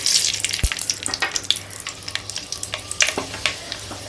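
Fenugreek seeds frying in hot sesame oil for a drumstick fish curry, a dense crackling sizzle with sharp pops and clinks of a utensil against the pan, close and without talk.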